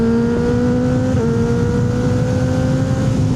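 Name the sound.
Kawasaki Ninja ZX6R motorcycle engine blasting through trees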